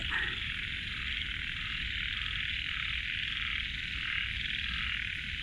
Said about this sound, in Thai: ดูครับเสียงกบเสียงเขียดเต็มเลยครับ